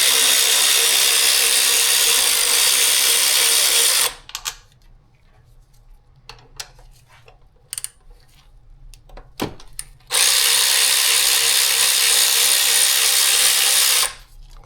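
Power tool driving out 10 mm and 12 mm bolts on a 2018 Subaru STI, with two loud sustained whirring runs at the start and end and quieter clicks and handling noises between them.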